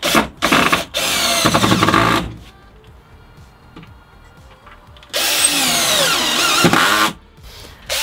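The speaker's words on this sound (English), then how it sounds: "in the process of screwing down our floor" A power drill drives screws into a wooden floor inside a VW Crafter van conversion, with two loud whirring bursts separated by a quieter pause, close to the microphone and with no talking.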